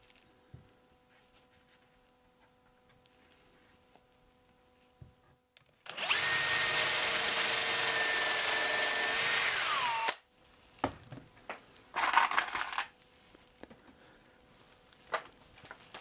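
A power drill drives a screw into a wooden cabinet, one steady whirring run of about four seconds, close and clear, followed by a shorter burst and light handling clatter in a quiet workshop.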